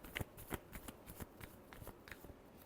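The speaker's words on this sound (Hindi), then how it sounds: "last shuffle" Tarot cards are shuffled in a quick series of soft, crisp flicks and slides, close and quiet, with no voice.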